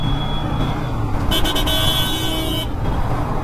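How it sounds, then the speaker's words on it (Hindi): Cars and motorcycles sit idling and creeping in a dense traffic jam, a constant engine drone. A few short horn toots cut sharply through it partway along. "पूरा जाम है यहाँ पे।"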